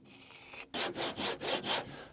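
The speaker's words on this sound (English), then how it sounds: "Cut out wedges where the rafter is supported and screw it on." A handsaw cuts through a wooden rafter for a log cabin roof in four or five loud, rhythmic strokes, close up and alone after a short quiet pause.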